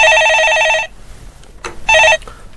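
Telephone ringing for an incoming call: two loud, close electronic rings, a long burst then a shorter one, separated by a brief quiet gap.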